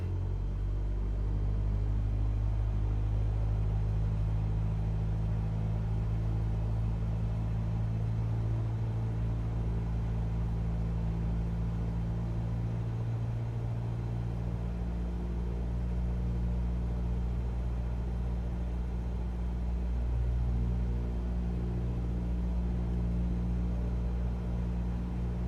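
A small single-engine aircraft in Microsoft Flight Simulator 2020 runs up to 1800 RPM, a steady, loud droning engine hum that holds nearly constant, with no one talking.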